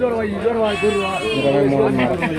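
Sheep and goats bleat in quick, overlapping cries at a busy weekly livestock market, close and loud, with people talking among them.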